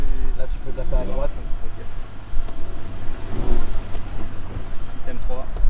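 A car drives along small country roads, its engine a steady low rumble with some revving throughout, while people talk over it in the cabin.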